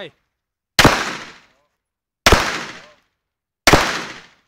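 Three sharp, loud gunshots ring out one at a time, spaced over a second apart, each cracking and then decaying with a short echo.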